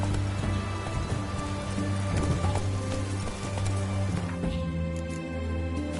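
Roach the horse galloping in The Witcher 3, hooves clip-clopping in a fast, steady rhythm beneath a continuous bed of rain-like ambience and low game music, loud and close, with no voices.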